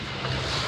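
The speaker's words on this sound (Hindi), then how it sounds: "ये ना नदी है जो पीछे से आ रही है, आपको आवाज़ भी आ रही होगी" Continuous low rushing of a nearby river at dawn, an even, soft roar of moving water that holds steady throughout.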